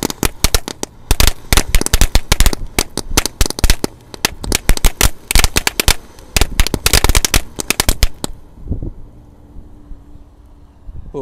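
Rapid, loud firecracker and roman candle bangs crackle in dense bursts for about eight seconds, then stop, leaving faint outdoor noise and a few scattered pops.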